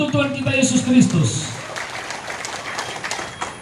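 A church congregation claps together, a dense patter of applause that rises over a preacher's voice at the start and then carries on alone, mid-distance and moderately loud.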